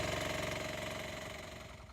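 Small Atlas TZ4K tractor engine running at a steady idle, a close, rhythmic chugging beat that fades slightly toward the end.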